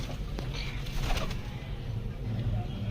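Farsil flying pigeons coo softly in a steady, continuous murmur close by, a low throbbing bird chorus running throughout with faint background noise.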